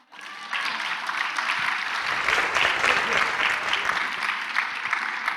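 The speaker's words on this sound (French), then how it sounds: "On applaudit la Trinité." Audience applause at a Marian festival gathering, a dense, sustained wash of many hands clapping that rises quickly and holds steady at a fairly loud level throughout.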